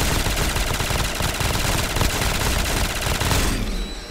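Dense, continuous automatic gunfire and rapid shots from a Call of Duty Zombies match on the Space Tower map, loud and relentless throughout before cutting off sharply near the end.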